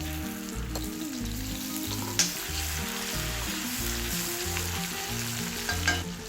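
Crushed shallots, dried chilies and curry leaves fry in coconut oil with a continuous close sizzle, a couple of sharp utensil clinks and a rhythmic low tone running underneath.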